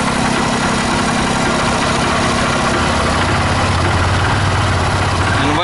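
A Honda Titan 150 fuel-injected motorcycle with a weak charging fault runs at a steady, loud, close idle, its low, even engine rumble continuous and alone, with no voices.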